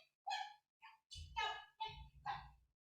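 A dog barks in a home in a quick series of about five yaps and woofs, close and fairly clear against an otherwise silent background.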